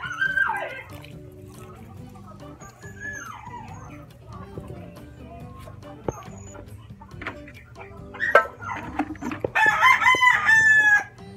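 Chickens cluck and a rooster crows loudly near the end in an outdoor yard while plants are watered, with a dog and scattered background noise.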